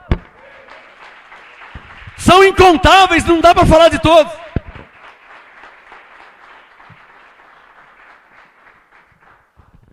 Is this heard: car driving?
no